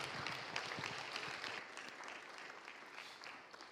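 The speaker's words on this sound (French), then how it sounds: "On va les applaudir." A church congregation at a Sunday service applauds together, a dense, steady wash of clapping that gradually tapers off, heard from within the room.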